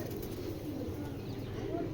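Imported racing pigeons coo softly in a loft, low, gentle calls repeating under faint background noise.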